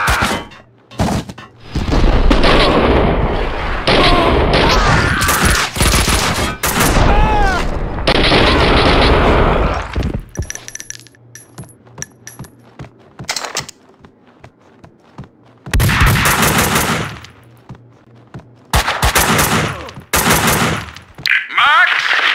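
Bursts of gunfire from the video game Max Payne 2 erupt loud and close in rapid clusters, with sharp shots and booms, dropping to near-quiet gaps before more volleys, while voices talk in between.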